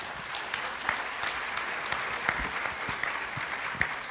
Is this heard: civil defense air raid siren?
no